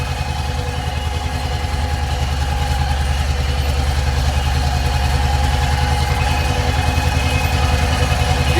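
Two tractors, a T-25 and a YuMZ-6, working together in a field while sowing soybeans: a steady, close diesel engine drone with an even chugging pulse that holds at constant loudness throughout, with no talk.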